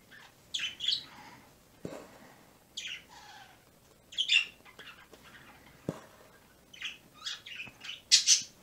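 Pet birds chirp and squawk in short, scattered bursts separated by quiet gaps, nearby and fairly clear, with one sharper, louder squawk near the end and no talking.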